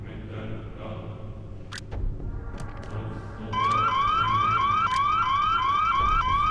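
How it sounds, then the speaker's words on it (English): A fire alarm rings inside the video game Hitman: Blood Money, a loud rapid electronic warble that starts partway through and holds steadily over faint game ambience and a few earlier clicks. "you can actually go ahead and pull this fire alarm"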